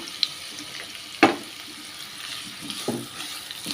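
Chopped onion fries in oil in a pan on a gas stove for a creamy garlic mushroom dish, giving a steady, even sizzle with a few brief pops and clicks, and no talking.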